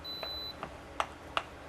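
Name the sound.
Sunmaki 316 induction cooktop beeping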